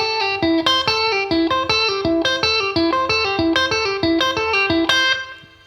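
Electric guitar playing a quick, articulate outro lick, a clean-ish bright run of picked notes in a steady rhythm, close and alone before ringing out at the end.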